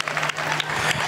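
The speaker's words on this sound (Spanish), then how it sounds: "Un fuerte aplauso también para ellos." Crowd applause at an outdoor town festival proclamation in Gran Canaria, a dense steady wash of clapping lasting about a second with no voices on top.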